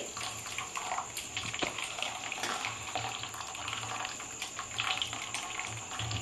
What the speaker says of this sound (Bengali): এটা আমি একটু ঠান্ডা জল দেব।